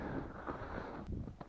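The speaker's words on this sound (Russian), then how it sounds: "Сейчас ветер усиливается. Больше порывы такие, больше становятся." Southwest wind gusts outdoors at a fishing spot, growing stronger, and buffet the microphone with a steady low rumbling roar for a brief moment.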